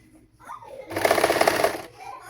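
Sewing machine stitching a prince-cut saree blouse, a close, fast rattling run of about one second that starts and stops abruptly, with faint talk just before.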